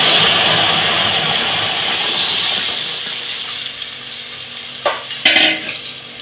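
Boiled dal poured into hot oil with dried chillies gives a loud, hissing sizzle that fades over several seconds, with a few clanks of a pot or spoon near the end.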